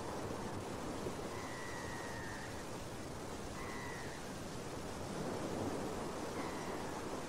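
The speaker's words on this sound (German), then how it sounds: "das sanfte Meeresrauschen" Gentle sea waves wash steadily onto a beach, a soft continuous broadband rush with faint bird calls drifting in the background.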